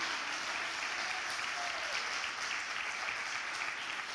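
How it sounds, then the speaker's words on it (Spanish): A church congregation claps for the Lord, an even, continuous wash of applause held at a steady level from start to finish. "Dale un aplauso al Señor."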